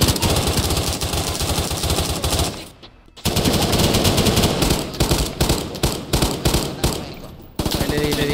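Bursts of loud automatic gunfire from a scoped weapon in the video game Unturned, long rapid strings broken by two short pauses, close and dominant.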